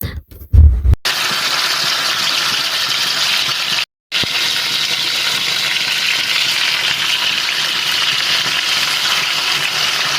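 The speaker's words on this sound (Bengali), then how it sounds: "তেল ভালোভাবে গরম হলে ম্যারিনেট করা মাছগুলো আলতো করে ছেড়ে দিলাম।" Marinated rohu fish pieces drop into hot oil in a frying pan and sizzle steadily, a constant close hiss of frying with a few clatters at the start and a brief break midway.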